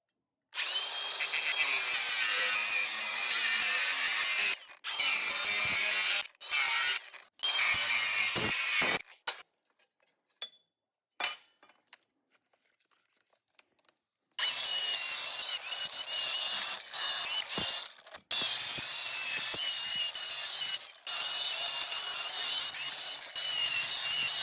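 A power cutting tool screams through a metal chassis part on an S-10 truck in long, loud bursts with short pauses and a quiet stretch in the middle, with no voices over the grinding.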